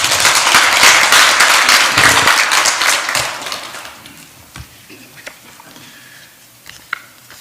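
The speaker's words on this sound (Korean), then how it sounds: "정영태 목사님 박수로 환영하겠습니다." A church congregation gives a burst of loud, dense applause to welcome the pastor at a Sunday worship service, fading after about four seconds into scattered claps and light taps.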